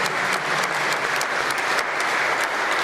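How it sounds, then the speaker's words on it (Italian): An audience applauds steadily, a dense wash of clapping from many hands that holds at an even level throughout. "farei un applauso anche a Cristina"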